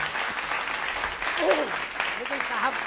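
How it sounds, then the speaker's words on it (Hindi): An audience claps after a song, a loud sustained burst of applause with a voice heard speaking over it. "समाप्त हो गई है, तालियां बजा सकते हैं।"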